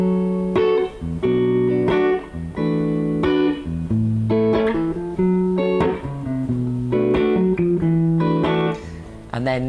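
Acoustic guitar strums sustained barre chords in a relaxed, steady rhythm, the chord introduction to a song, ringing close and full with clear changes between chords and no talking.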